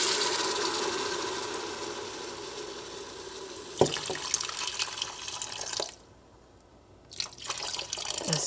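Broth is poured into a pot of New England clam chowder with sautéed onions, a splashing liquid stream that runs for several seconds, pauses briefly, then resumes more softly, close and with no talk.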